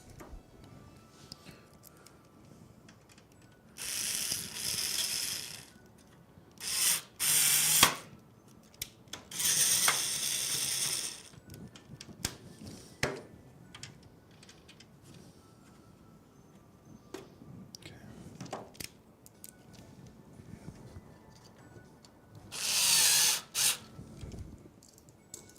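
A handheld screwdriver drives screws into a PC case during a white-themed computer build. Several bursts of close, scratchy turning are separated by quiet gaps and scattered small ticks and clicks.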